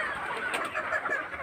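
Sonali chickens cluck at a local poultry market, a few short clucks close by over a faint background hiss.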